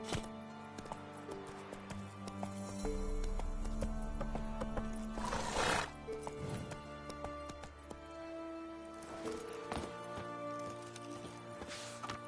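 A horse in The Witcher 3 video game neighs loudly in the middle, with hooves clopping around it and game sounds in the background.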